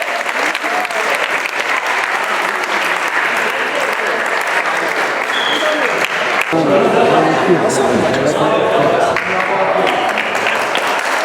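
An audience in a village gym claps at a volleyball tournament in Eshtia, with loud, dense, continuous applause for several seconds. Crowd murmur and voices come through as the clapping thins toward the end.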